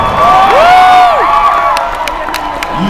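A large crowd at a pre-election Barack Obama rally in New Jersey cheers loudly and continuously, with shrill whistles and whoops rising above the roar.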